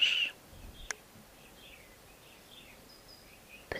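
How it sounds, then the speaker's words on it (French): Faint, distant birds chirp and twitter among tree branches in an outdoor setting, with short scattered calls over a quiet background. "le chant des oiseaux dans les branches"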